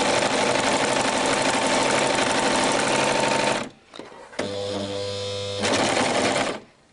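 An overlocker sewing machine running at full speed to form a thread chain: a loud, steady, rapid mechanical whir that cuts out briefly, then resumes in shorter bursts before stopping.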